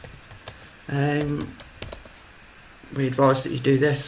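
Fingers tap out a file name on a computer keyboard in short bursts of quick, close clicks, with a person talking in between.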